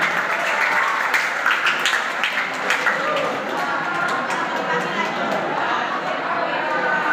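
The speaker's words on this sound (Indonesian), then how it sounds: "Oke, tepuk tangan." An audience applauds at a literacy session, a loud, steady round of clapping with some chatter mixed in, continuing throughout.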